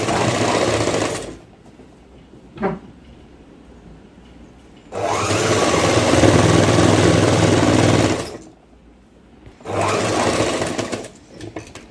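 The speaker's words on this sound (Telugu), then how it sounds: "వన్ ఇంచెస్ మీద ఇట్లా క్లాత్ అనేది ఫోల్డింగ్ చేసి కుట్టు అనేది వేసేయండి" A sewing machine stitches a folded one-inch cloth hem for a baby gown in three loud, steady whirring runs, the longest about three seconds, broken by quiet pauses and a brief knock.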